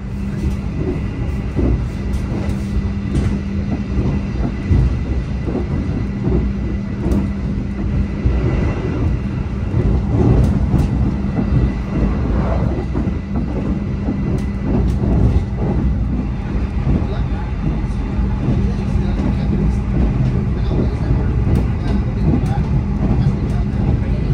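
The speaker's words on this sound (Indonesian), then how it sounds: "perjalanan kereta api Argo Wilis sudah tiba di stasiun Jombang" Argo Wilis passenger train at Jombang station in Indonesia, a steady loud rumble of rolling carriages heard from onboard, with a constant low drone and occasional faint clatters throughout.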